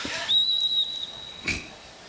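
A referee's whistle at a boys' high school soccer match sounds one sharp, clear blast, then a shorter second toot over faint crowd and outdoor ambience.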